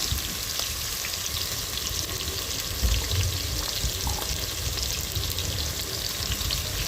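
Ghee and chopped tomatoes fry in a pan, a continuous close hiss and sizzle with faint stirring, one brief louder bump midway.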